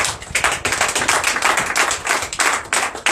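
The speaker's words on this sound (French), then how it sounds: "Donne l'acclamation à Jésus." A church congregation at a morning prayer service in Benin claps loudly and close by in a quick, even rhythm of sharp hand strikes, acclaiming Jesus without any voices over it.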